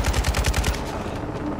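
AK rifle firing in a Modern Warfare II campaign mission: a rapid automatic burst of about seven close, punchy shots in the first second, then a fading reverberant tail.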